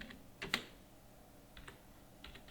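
Keys tapped on a computer keyboard while entering company details into accounting software, in short quiet bursts of a few clicks separated by pauses, against a faint background hum.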